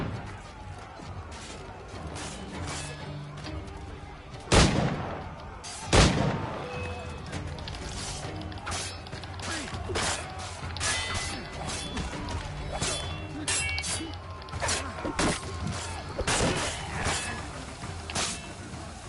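In-game combat from Assassin's Creed IV Black Flag with a grenade going off: two heavy booming blasts early on, then a busy stretch of gunfire, clashes and impacts, with someone talking over parts of it.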